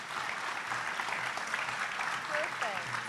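An audience at an AFT Fairness Award event gives a sustained round of applause for the award recipients, steady clapping that carries throughout while voices are heard over it.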